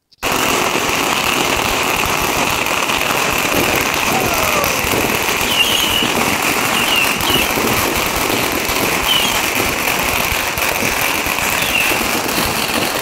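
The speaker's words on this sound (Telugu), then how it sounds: "ఈవెంట్ స్టార్ట్ అవ్వాలంటే క్రాకర్స్ కాల్చాల్సిందే" A dense, continuous crackling barrage of firecrackers bursting nonstop at a university Chinese New Year celebration after rain, loud and close, with crowd noise mixed in underneath.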